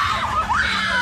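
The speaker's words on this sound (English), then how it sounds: "It's crazy to hear these screams so close" Shrill screams rise and bend at a Halloween haunt at Kings Dominion, a short close burst over a steady low crowd murmur.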